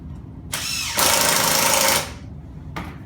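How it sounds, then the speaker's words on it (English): Power drill boring into wood while building a rustic Christmas tree shelf: a loud whirring burst that rises into a harsher, denser grind for about a second, then stops, with a brief second start near the end. "I hear that drilling"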